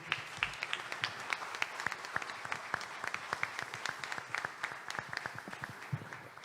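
A church congregation applauds at a pastor's ordination service, a dense, steady wash of many hands clapping at moderate distance that holds for several seconds with no talk over it.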